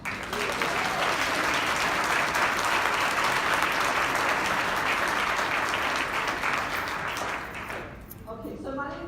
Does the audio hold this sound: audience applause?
yes